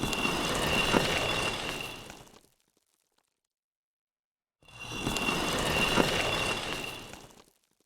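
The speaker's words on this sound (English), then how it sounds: "A sound of the door opening." A stone door opening in a 3D explorer-style video game, heard as two separate bursts of heavy, gritty grinding and scraping, each lasting about two seconds with a short silence between them, close and fairly loud.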